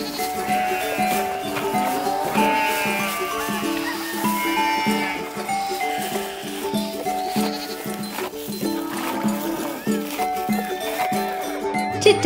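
Sheep bleat repeatedly in a toy farm scene, with several clear, fairly close bleats spread across the stretch under a steady backing of other sound.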